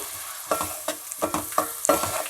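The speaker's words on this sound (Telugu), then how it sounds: "అవి కూడా వేసేసుకుని వేపుకోవాలి" Onion, tomato, cashew and clove paste frying in a pan, with about five distinct scraping stir strokes at a steady rhythm over a soft background sizzle, close and moderately loud, no talking.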